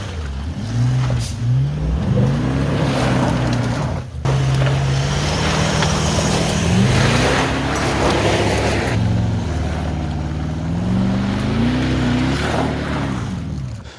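An off-road car's engine revs and drones continuously through repeated rising and falling pitch sweeps, loud and close, as the vehicle pushes through mud, with no talking.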